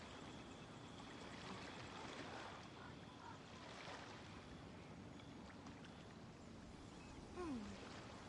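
Steady ocean waves wash in a continuous broadband roar in the open world of Genshin Impact, with a brief louder swell near the end and no speech.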